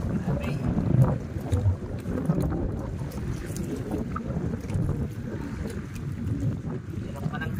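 Strong amihan wind buffets a small boat on open water during a tilapia fishing trip, a steady gusty rush with low rumbling microphone buffeting and faint sloshing throughout.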